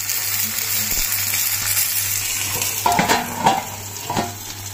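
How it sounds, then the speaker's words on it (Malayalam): Tilapia frying in a pan for Kerala-style meen pollichathu gives a steady, close sizzle and hiss, with a few clinks of a utensil against the pan near the end and no talking. "തിരിച്ചിട്ടിട്ട് ഒരു 5 മിനിറ്റ് സമയം കൂടെ കുറച്ചും കൂടെ ഒന്ന് മൂപ്പിച്ചു കൊടുക്കാം"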